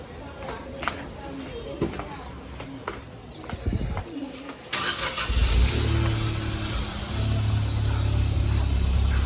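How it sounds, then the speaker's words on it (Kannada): A car engine starts and the car pulls away on a wet street after rain, the engine rumble rising and holding steady, with pigeons cooing and other outdoor sounds before it. "ಅವರು ಕಾರ್ ತಗೊಂಡು ಹೋಗ್ತಾರೆ, ನಾನು ಗಾಡೀಲಿ ಹೋಗ್ತೀನಿ"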